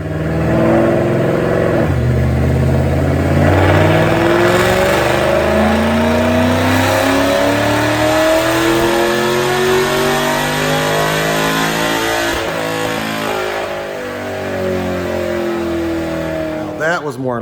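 A 2005-10 Ford Mustang with cams, BBK long tube headers and open QTP cutouts roars through a dyno pull, its engine climbing and falling in pitch, loud and continuous throughout.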